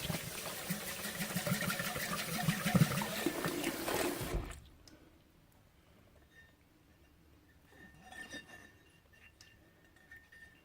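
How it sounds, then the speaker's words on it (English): Water runs through a glass water pipe as it is rinsed out, splashing and gurgling fairly loudly for about four seconds before stopping abruptly, leaving faint clinks and quiet trickles. "Now it is just a matter of rinsing all of this"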